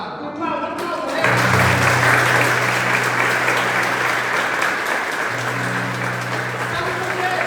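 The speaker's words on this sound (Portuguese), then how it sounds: "Eu quero te convidar a aplaudir essa pessoa que está aí do lado." A church congregation breaks into loud, sustained applause that swells and holds steady throughout, with crowd noise and a voice speaking over the clapping.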